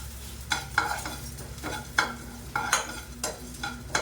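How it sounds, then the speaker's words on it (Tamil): Coriander seeds, chana dal, fenugreek, raw rice and dried red chillies dry-roasting in a pan, stirred with a steady rhythm of scraping strokes roughly every half second, close and moderately loud with no talking. "கொஞ்சம் நல்லா சேவக்காய் வறுத்துக்கலாம்."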